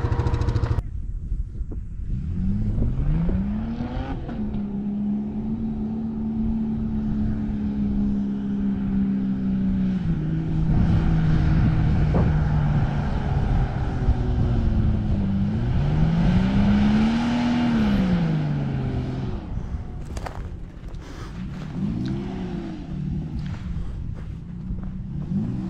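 A Jeep engine revs hard and steadily as the vehicle climbs a sand chute, its pitch rising and falling with the throttle over about twenty seconds, loud and close throughout.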